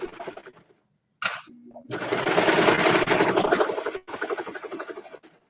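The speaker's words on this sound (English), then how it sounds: "do tend to slow down quite a bit with the serger just to make sure it's fully sewn" A serger stitches slowly through six layers of fabric, with a short whirring burst, then a longer steady mechanical run that slows and stops, followed by lighter rattling, heard up close with no talk.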